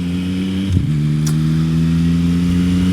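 A 2024 Yamaha MT-09 fourth-generation motorcycle engine idles and revs steadily up close, a loud continuous drone with a brief throttle blip early on.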